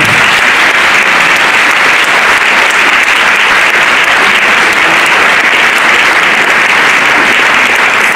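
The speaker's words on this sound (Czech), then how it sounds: "nicméně jí zatleskáme." Loud, dense applause from an audience at a Prague folk music gathering, honouring a young traditional band, continuous clapping with no pauses throughout.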